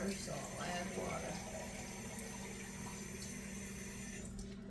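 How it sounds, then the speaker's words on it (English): Water poured into a pot of cream of tomato soup, a faint running splash close by, with a voice in the background. "But they say to add water, so I'll add water."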